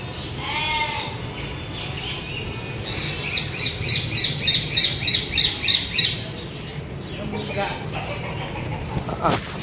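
Harsh squawks from roosters and other birds repeat in a quick rhythmic burst mid-clip over a noisy crowd hum at a Sunday market in Rajkot, with voices and bleating-like calls around.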